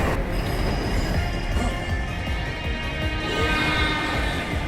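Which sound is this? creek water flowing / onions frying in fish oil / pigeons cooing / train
train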